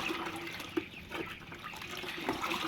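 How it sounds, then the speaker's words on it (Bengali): Water being stirred to mix vaccine medicine for chickens, with soft swishing and a few small splashes and drips throughout, moderately close. "এবার আমি পানিটা ভালো করে একটু মিক্সড করে নিতে হবে, যাতে পানি সব জায়গায় সমান হয়"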